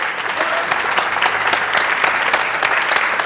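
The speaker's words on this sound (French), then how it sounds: "On applaudit." Studio audience at a French TV game show breaks into loud, sustained applause, a dense, even wash of clapping close up that holds for the full few seconds.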